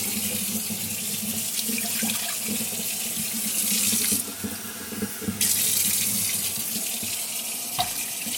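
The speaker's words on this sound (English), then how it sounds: "So you want to put the water into the pot first." A kitchen tap runs steadily into a cooking pot, a continuous broadband water rush close by that briefly changes tone midway as the stream shifts, then carries on to the end.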